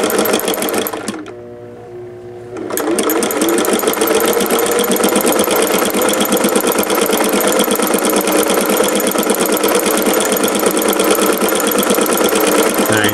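Singer 401A sewing machine stitching with a ruffler foot, a loud, close, rapid mechanical whir that stops briefly near the start, then runs steadily at high speed.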